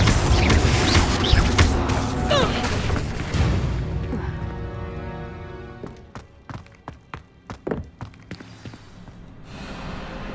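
Confringo fire spells go off in combat in Hogwarts Legacy. Heavy, dense booms and rumbling at first thin out into a quick run of sharp percussive blasts and impacts under game music.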